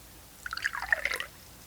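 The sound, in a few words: water from a rain barrel dripping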